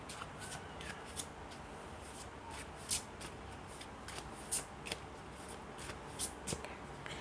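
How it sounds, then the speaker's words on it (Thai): Tarot cards being shuffled by hand during a reading, a soft riffling rustle with several sharper snapping bursts spaced through it, close and quiet, with no talking. "ขออนุญาตสับไพ่แทนนะคะ"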